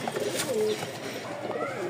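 Male Rajshahi Giribaz pigeon cooing close by, a few soft rolling coos in a short series against a quiet room.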